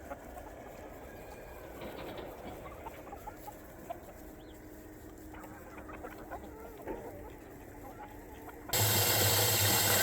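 Chickens on a farm pasture near sheep give scattered soft clucks in a quiet open-air setting, faint and intermittent, before a sudden loud rush of noise takes over near the end.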